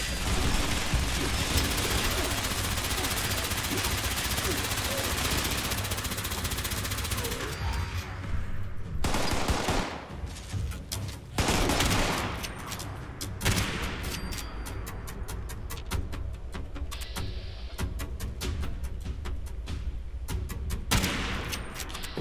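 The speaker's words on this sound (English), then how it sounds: "Who else is fucking firing at me?" Sustained automatic gunfire in Fallout 76, dense rapid shots pouring on for several seconds, breaking off, then returning in scattered bursts and single cracks, loud throughout with no speech.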